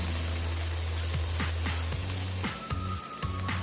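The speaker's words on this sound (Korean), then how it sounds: "잘라놓은 청고추도 넣고 같이 볶아주시고요." Peas and chopped green chilies stir-fry in a hot pan for homemade chilli tuna, a loud, continuous sizzle with repeated scraping and tapping of a utensil, and no voices.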